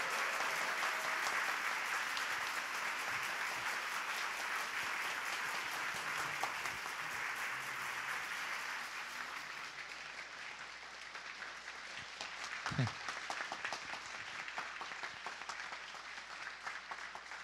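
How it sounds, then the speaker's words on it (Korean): A church congregation claps during a Sunday service, a sustained, fairly distant wash of applause lasting the whole stretch, slightly thinning toward the end. "우리 큰 박수와 축복을 함께 보내드리도록 하겠습니다."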